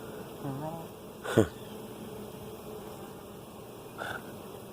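A steady, dense hum of a honey bee swarm buzzing close by, broken by a couple of brief louder sounds.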